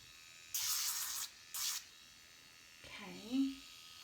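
Electric nail file sanding fingernails during a ballerina nail application: two short, close, high-pitched buzzing bursts, then a person speaks.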